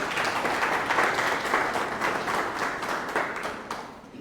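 A conference audience gives a sustained round of applause to welcome a featured speaker at a training session on an electoral calendar, steady dense clapping filling the room with no voices over it.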